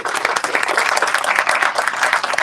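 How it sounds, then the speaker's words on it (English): An audience at a panel discussion applauds, brisk close clapping that holds steady and loud without any talk. "let's give them a round of applause for their responsiveness"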